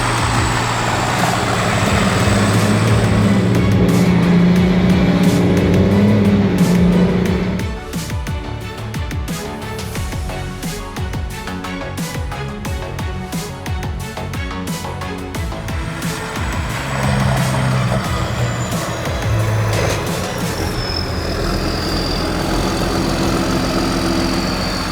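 A modified Massey Ferguson tractor built for desert dunes runs its engine loudly nearby, revving hard at first, then settling to a rough, pulsing idle before picking up again.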